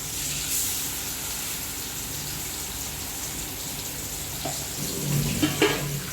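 Fish frying in a pan with plenty of hot oil, a continuous even sizzle and crackle with a few louder pops near the end, no talk.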